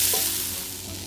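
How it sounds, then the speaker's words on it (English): Onions sauté in hot oil in a soup pot, giving a close, steady sizzle with a brief stir near the start and no talking. "We got a nice sizzle."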